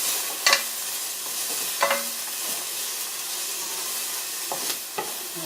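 Onions sizzle steadily in a frying pan, with a few sharp scraping clicks as they are stirred and turned, close and moderately loud with no talking.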